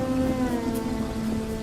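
Rain pours steadily as a sound effect in a 2D animated Hindi story, a dense, even hiss of falling water with a low tonal hum underneath, loud and continuous throughout, with no voices.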